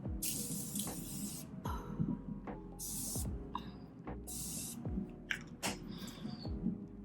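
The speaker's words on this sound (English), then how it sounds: "I'm gonna go ahead and spray my face." Several short bursts of fine mist from a continuous-mist face spray, a few seconds apart, over faint background music.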